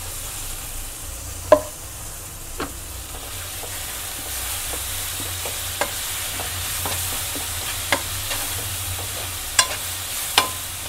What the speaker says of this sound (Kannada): ಟೊಮೊಟೊ ಗ್ರೈಂಡ್ ಮಾಡಿ ಇಟ್ಕೊಂಡಿದ್ವಲ್ಲ, ಗೋಡಂಬಿ ಟೊಮೊಟೊ, ಅದನ್ನು ಸೇರಿಸ್ತಾ ಇದ್ದೀನಿ